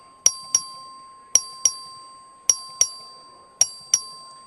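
Voting bell rung by the clerk in the Texas House chamber during a session, four pairs of sharp, bright metallic dings evenly spaced about a second apart, each pair quick double strike with short ringing decay, clear and unaccompanied by talk.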